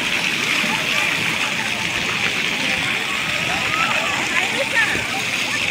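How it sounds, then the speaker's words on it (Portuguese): A spring welling up from the ground at a water park in Suzano, São Paulo, gives a steady, continuous rush of flowing, splashing water with no pauses, close and fairly loud, while people speak over it. "Nasce a água daqui do chão"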